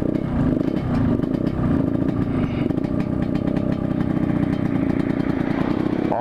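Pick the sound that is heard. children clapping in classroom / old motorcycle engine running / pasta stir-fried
old motorcycle engine running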